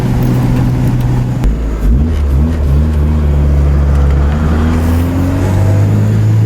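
Honda B20 VTEC engine with a new intake manifold and throttle body, idling, then blipped in quick short revs that rise and fall before a longer climb in pitch, loud and close.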